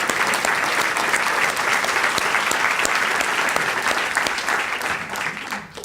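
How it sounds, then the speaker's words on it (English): Audience at a Chicago Public Schools event applauding team members who stand, with dense, loud, sustained clapping from many hands that fades slightly toward the end. "please stand and let's give them a round of applause as well"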